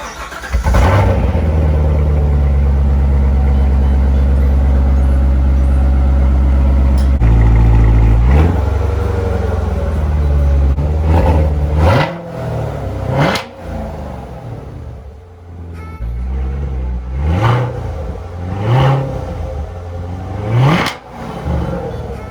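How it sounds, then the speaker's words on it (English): A 2016 Chevrolet Corvette Stingray Convertible engine idles with a deep, steady exhaust rumble, then revs hard several times in sharp rising bursts, loud and close, with no talking. "If you guys want to hear what the car's exhaust note sounds like, I'll play it now."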